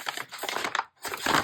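Possum-pink tissue paper crinkles and crushes loudly and close by while mail is being unwrapped, in two dense bursts split by a short pause.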